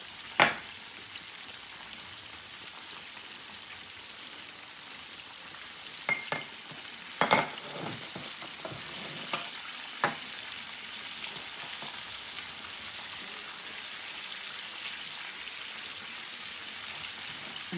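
Gravy seasoned with salt and pepper simmers and thickens in a pan alongside chicken fried chicken and steak, giving a steady soft frying hiss throughout, with a few brief clicks and stirring scrapes near the middle.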